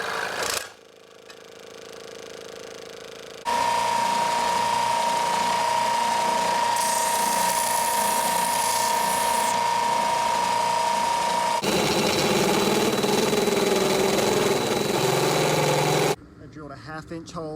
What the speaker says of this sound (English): It's a lot easier to drill the metal with this, and it keeps it pretty centered.